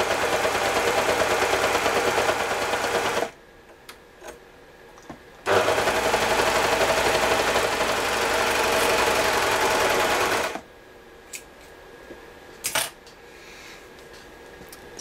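A Baby Lock Desire3 combination sewing machine stitches thick sweatshirt fabric. Two long, loud bursts of rapid mechanical stitching are split by a quiet pause with a few clicks, then end in another quiet stretch with light knocks.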